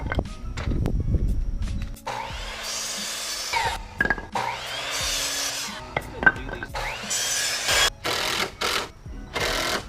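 Hand saw cutting 2x4 lumber into 12-inch sections for a wood rack, a series of close, raspy back-and-forth strokes in bursts separated by short pauses, with a few knocks and clatters of wood in between.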